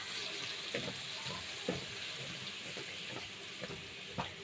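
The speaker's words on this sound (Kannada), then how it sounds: "ಒಗ್ಗರಣೆಗೆ ಸಾಸಿವೆ ಮತ್ತು ಜೀರಿಗೆ ಹಾಕ್ಕೊಂಡಿದ್ದೀವಿ." Mustard seeds and cumin sizzle in hot oil for tempering while tomato pickle is being made, giving a soft, steady hiss with scattered small pops and crackles; quiet and close, with no talking.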